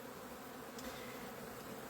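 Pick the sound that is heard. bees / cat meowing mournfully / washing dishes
bees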